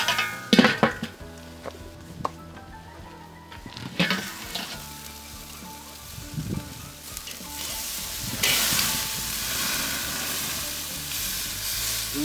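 Ribeye steaks sear on a Weber charcoal grill, crackling and hissing loudly amid clinks of tongs and metal, with the sizzle swelling into a sustained hiss toward the end.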